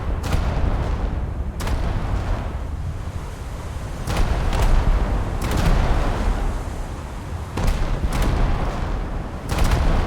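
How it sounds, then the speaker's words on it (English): Heavy naval gun salvos boom repeatedly in World of Warships with a German Scharnhorst battleship, deep blasts every second or two over a constant rumbling roar of sea and battle. "Now I'm just ineffectually shooting at a bot Helena."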